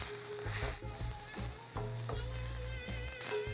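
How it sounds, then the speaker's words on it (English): Mushrooms fry in a hot pan, browning on the first side with a close, steady sizzle and light crackle, interrupted by a few soft scrapes and taps, with no talking. "fry on this side until they're nice and brown"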